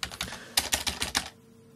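Fingers type on a computer keyboard hooked up to a Raspberry Pi, a quick close burst of about ten crisp key clicks in an uneven rhythm, then quiet.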